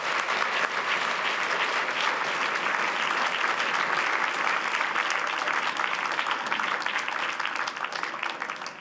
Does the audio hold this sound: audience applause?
yes